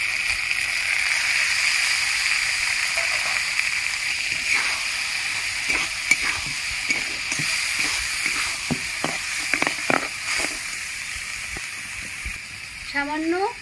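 Ground ridge gourd paste sizzles and hisses steadily in a hot pan with poppy seeds fried until red, with scattered clinks and scrapes of stirring over the constant frying noise.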